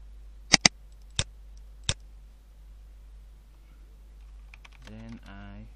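Four sharp computer keyboard keystrokes, close and distinct, come in a quick burst as a folder name is typed, followed by a quiet pause and then a brief murmur of speech.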